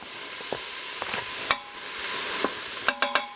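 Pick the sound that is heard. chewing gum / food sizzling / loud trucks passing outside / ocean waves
food sizzling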